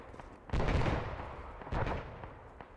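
Two heavy grenade blasts from a Vietnam-era Battle of Long Tan combat video game, each a loud booming burst with a rumbling tail, the second following about a second later over low background battle noise.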